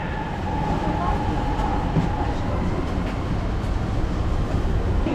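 A subway train in Dalian, China, rumbles steadily for several seconds from inside the car, with constant rolling noise and faint rail clatter.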